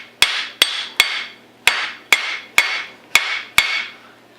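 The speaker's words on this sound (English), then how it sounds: "I'll probably start using a mallet or" Mallet blows tapping a 1911 Commander .45 ACP pistol slide onto its frame during fitting: eight sharp, close, evenly spaced knocks, each ringing briefly with a metallic tone, in a quiet room with no talk.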